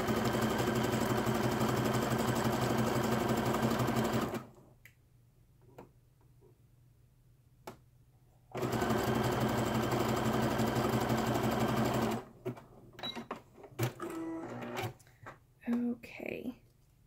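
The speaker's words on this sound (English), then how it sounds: "I'm going to grab about halfway between and continue sewing." A domestic sewing machine stitches fabric in two steady bursts of a few seconds each, stopping between them, followed by quieter clicks and handling noises as the material is repositioned.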